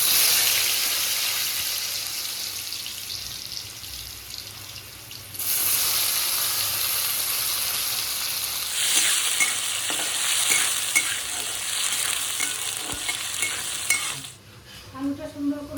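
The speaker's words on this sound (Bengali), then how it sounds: "আলুটা সুন্দর করে ভাজা হয়ে গেছে" Potatoes frying in a pan with cumin seeds and dried red chillies, a steady close sizzle with repeated scraping stir strokes for about fifteen seconds, getting louder partway through and dropping at the very end.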